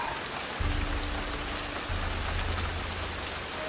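Heavy rain in the stealth game Shadow Tactics: Blades of the Shogun, a dense, continuous downpour hissing steadily with a low rumbling undertone, no voices.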